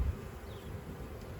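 Honey bees from a swarm hum steadily around hive frames, a soft, close, continuous buzz with no voices.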